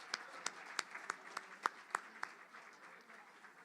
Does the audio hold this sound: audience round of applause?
yes